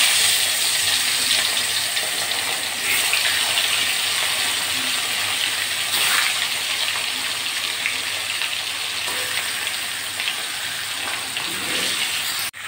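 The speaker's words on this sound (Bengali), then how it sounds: "তেল গরম হয়ে গেছে, মাছগুলো আমি প্রথমে ভেজে নেব।" Pieces of catla fish fry in hot oil with a loud, continuous hiss and sizzle that keeps up steadily for over twelve seconds, with no talking.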